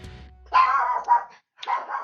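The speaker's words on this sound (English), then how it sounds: "Why do dogs bark?" A dog barks a few times, with two short bursts of barking separated by a brief silence, close and fairly loud with no talk over it.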